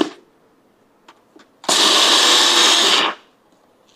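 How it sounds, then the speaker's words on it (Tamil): A kitchen mixer grinder blending peanuts whirs loudly for over a second, starting abruptly and cutting off, with a few faint clicks before it. "மிக்ஸி ஆன் பண்ண போகிறோம்."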